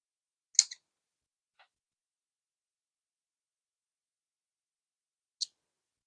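Scissors snip through a long, stretched-out plant stem at the node with a sharp, close double click, followed by a faint tick and one more crisp snip in an otherwise silent space.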